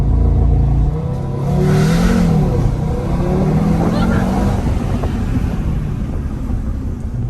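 A 2021 Audi TT RS accelerates hard from a launch-control start, its engine note rising steadily beneath people talking inside the cabin, loud and close throughout.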